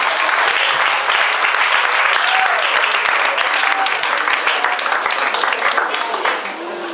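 A church congregation applauding and acclaiming God at a prophet's service: loud, dense, sustained clapping from a large crowd with faint cheers mixed in, fading slightly at the end.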